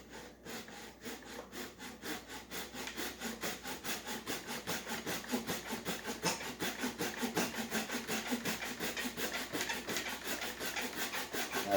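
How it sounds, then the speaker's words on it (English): A pull saw cuts through wood held on a support, giving a close, steady series of rhythmic rasping strokes that grow slightly louder over the cut, with no voices. "I'm using a pull saw and get a little support underneath it."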